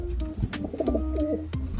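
Racing pigeons being basketed, several birds cooing close by in short throaty bursts that overlap and repeat.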